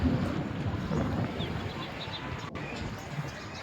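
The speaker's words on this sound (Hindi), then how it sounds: "बहुत शदीद तूफ़ान है, बहुत ही ख़तरनाक तूफ़ान आ गया।" A violent storm with a cloudburst in Pakistan, heard as a continuous roar of wind and heavy rain buffeting the microphone, steady and fairly loud with no clear speech.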